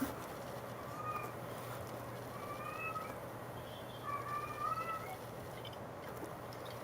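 A cat meows several times outdoors in a yard, faint and somewhat distant, with short repeated mewing calls spread across a steady background hiss.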